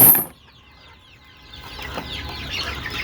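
Loud rustle or wing flap at the start, then soft clucking and bird chatter from native chickens kept on a rooftop build steadily in the background.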